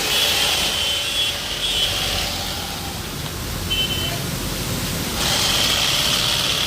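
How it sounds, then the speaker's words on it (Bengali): At a rice mill, a sack-closing machine stitches a rice sack shut with a rough, steady mechanical buzz and rubbing rattle, fairly loud and close, dipping briefly in the middle. "দেখুন কত দ্রুত একটা বস্তা সেলাই করতেছে"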